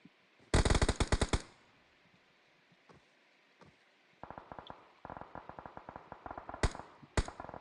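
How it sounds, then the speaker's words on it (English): Rapid automatic gunfire from a video game tournament match, with a loud burst of shots early on, scattered single cracks, then repeated bursts and volleys toward the end, no voices present. "Aces over here taking some shots on to Beneki."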